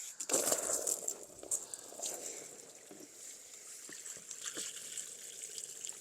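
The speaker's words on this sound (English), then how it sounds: "we'll fill the pond up now." Water pouring and trickling into a newly placed garden nature pond, a steady, soft gushing splash with faint bubbling, continuous and fairly quiet.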